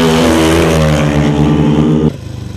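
Motorcycle engine revving as the throttle opens, a loud close tone held at high revs for about two seconds before dropping sharply back to a pulsing idle.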